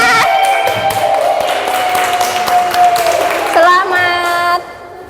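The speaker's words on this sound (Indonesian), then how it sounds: "Wih, tepuk tangan." An audience in a teachers' session claps briefly while music with sustained tones plays loudly over it, the applause blending into the music before fading near the end.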